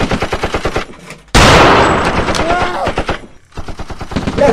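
Gunfire in a firefight scene: rapid bursts of automatic fire, then a loud, sustained volley of shots in the middle, with quicker staccato shots before and after.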